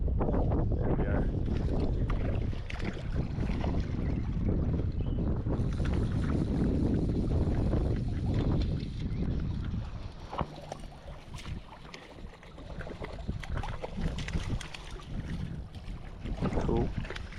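Strong wind gusts over the microphone while drifting a boat on the high-flowing San Juan River, a loud steady rumble that eases briefly midway before picking back up.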